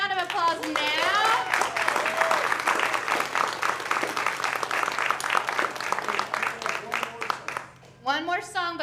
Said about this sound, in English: Let's give them a round of applause now.